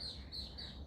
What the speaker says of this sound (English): And birds are chirping